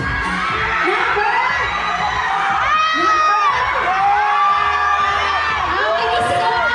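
A school founding-anniversary audience shouts and cheers loudly, a dense crowd of young voices with whoops and rising yells, sustained and close.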